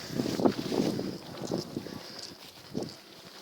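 Wind gusting outdoors during a walk near Ilkley Tarn, uneven low buffeting rumbles close on the microphone that swell and fade, with quieter stretches between gusts.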